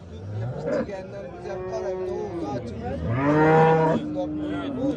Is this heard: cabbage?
no